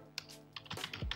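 Short burst of keystrokes as code is typed on a computer keyboard during a PHP programming lesson, a few quick clicks close to the microphone in a quiet room.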